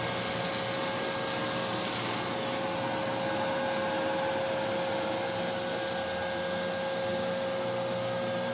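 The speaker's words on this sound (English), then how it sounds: "you can really hear the brush go on the Neato compared to the Roomba." A Neato robot vacuum runs with its brush whirring in a steady, close mechanical drone, a faint high tone over it and brief rattles near the start, with no talking.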